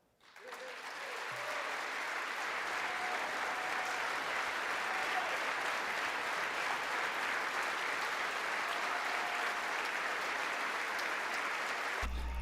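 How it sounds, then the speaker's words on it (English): Applause in the House chamber swells quickly after a brief quiet start, then holds as a broad, sustained wash of many hands clapping at a steady level. "I forgot they gotta clap after everything, pat each other on the back and stuff."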